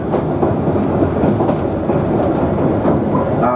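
A passenger train rumbles steadily along the rails with rhythmic clickety-clack from the wheels and a faint squeal near the end, no voices.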